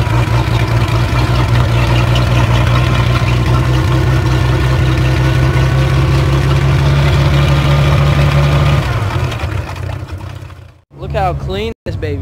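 A poorly running boat engine idles loudly with a steady, throbbing low rumble for about nine seconds, then sputters and cuts out.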